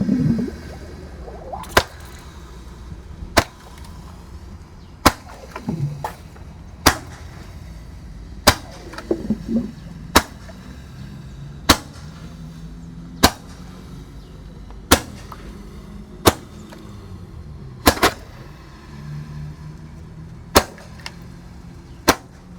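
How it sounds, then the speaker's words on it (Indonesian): Firecrackers go off one after another inside a well, about fourteen sharp echoing bangs spaced a second or two apart, each with a ringing reverberant tail over a low rumbling background. "eksperimen ngabuburit menyalakan mercon di dalam sumur"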